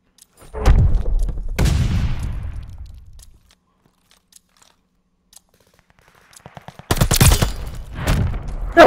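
Loud, sharp bursts of gunfire in a 3v3 video game shooter match, one cluster at the start and another near the end, separated by a long near-silent gap.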